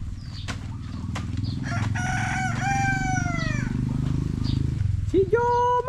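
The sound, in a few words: rooster crowing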